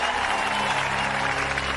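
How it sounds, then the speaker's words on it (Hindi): A crowd applauds at a public speech about farmers in a Hindi-dubbed action film, a dense, steady wash of clapping over a low hum. "ताली बजाओ ताली।"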